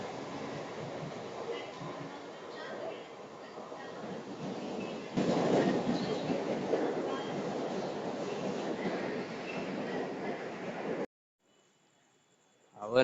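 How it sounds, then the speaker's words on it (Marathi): A train rolls past near Parel in Mumbai at a steady, fairly loud level, swelling halfway through and cutting off abruptly near the end, with faint talk underneath. "ट्रेन दिसते की नाही माहित नाही तुम्हाला, पण येते ती."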